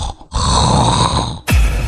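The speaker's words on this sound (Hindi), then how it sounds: "किसी को सोने दोगे या फिर यूं ही कुंभकर्ण बने खर्राटे लेते रहोगे?" A cartoon character snores loudly in a comedy scene, one long rasping breath followed by a sharp snort.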